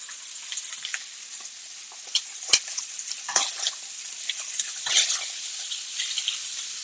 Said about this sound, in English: I'm going to get that nice hard sear.